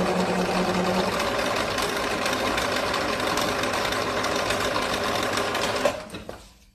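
A sewing machine with speed control stitches fast and continuously, a dense steady buzzing whir up close that runs for several seconds before winding down and stopping.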